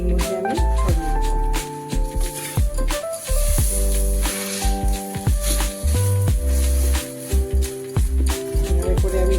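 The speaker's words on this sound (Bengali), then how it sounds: "এভাবে করে আমি রুটিটাকে ভালো করে ভেজে নেব।" Roti frying in a pan with egg poured over it, a steady close sizzle and hiss with clinks and scrapes of stirring on top, no voices.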